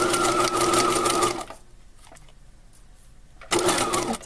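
A sewing machine stitches a tote bag strap laid over sandpaper, whirring loudly for over a second, falling quiet for about two seconds, then starting up again close by.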